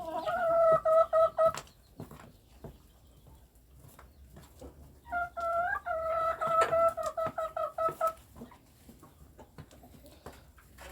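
Around eighty breeder hens in a coop cluck as they gather to peck at feed poured out for them, with two bursts of loud, rapid clucking and scattered pecking taps in between, close and without voices.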